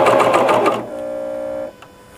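A sewing machine stitches a seam on a T-shirt: a loud, rapid mechanical chatter that stops abruptly and leaves a steady motor hum, which then cuts out.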